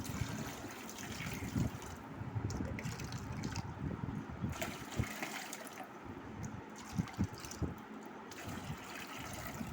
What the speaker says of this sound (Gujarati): હવે આમાં ગરમ પાણી નાખશું.